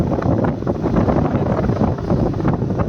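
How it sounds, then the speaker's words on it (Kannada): A boat moves along steadily, its rumble mixed with heavy wind buffeting the microphone, continuous and fairly loud throughout. "ಬೋಟ್ನ ಓಡಿಸ್ತಾ ಇದ್ದಾರೆ"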